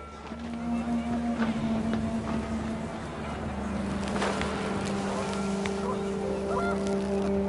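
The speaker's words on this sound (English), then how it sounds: "panicked geese appeared and quickly went" Panicked geese honk repeatedly outdoors in rising wind, their calls mixed into a busy wash of noise with a steady low engine-like drone throughout.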